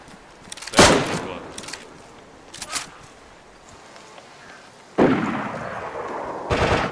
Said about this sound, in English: One of them just got sniped from someone else.